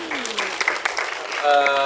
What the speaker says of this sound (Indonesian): tepuk tangan dulu buat Star Vision teman-teman